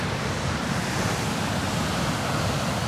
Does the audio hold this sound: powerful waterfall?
yes